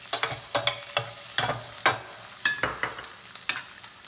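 Onions and seasoned pepper sizzling in hot oil in a pan for a chicken mushroom casserole, with a steady close crackle and repeated sharp scrapes of a spoon stirring at a brisk, uneven rhythm.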